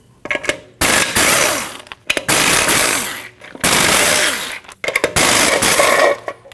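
An impact wrench zips off 21mm lug nuts from a Nissan NV2500 wheel in loud, close rattling bursts, three long runs separated by short pauses, with a final shorter burst.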